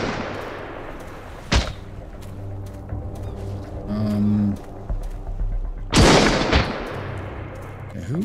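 Two sharp gunshots ring out several seconds apart in the survival game Sunkenland, each a loud, broadband crack over a steady low in-game hum, with a faint tonal blip between them.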